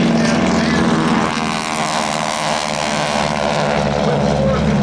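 Propeller aircraft on takeoff roll at the Oshkosh airshow, a loud steady engine drone with a constant propeller hum filling the whole clip, close by and continuous.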